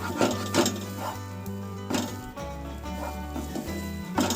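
A spoon scrapes and knocks through beetroot paste drying out in a pan, soft rhythmic strokes up close over a low steady hum.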